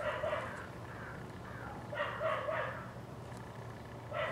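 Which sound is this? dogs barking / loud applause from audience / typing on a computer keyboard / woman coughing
dogs barking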